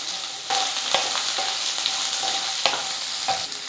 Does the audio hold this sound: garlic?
yes